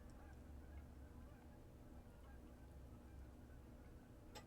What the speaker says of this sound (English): The geese are flying over.